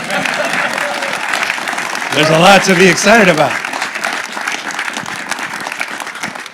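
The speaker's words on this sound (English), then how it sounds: "Applaud, everybody." Continuous audience applause at an event at the Tesla engineering headquarters in California, former HP site, with someone speaking briefly over the clapping partway through.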